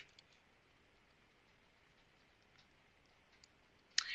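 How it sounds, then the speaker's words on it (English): A computer mouse clicks the Save button, one sharp, close click near the end after a long stretch of faint room hiss and a few tiny ticks. "Because I selected no, I'm just going to click Save."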